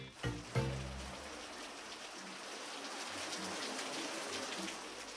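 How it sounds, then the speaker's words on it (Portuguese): Sudden tropical downpour in San Cristóbal, Mexico: steady, dense hiss of rain falling on surfaces, continuous and fairly close, with a couple of brief knocks at the very start. "San Cristóbal foi repentinamente atingida por uma chuva tropical"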